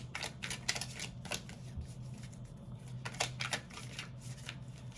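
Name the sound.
shuffling cards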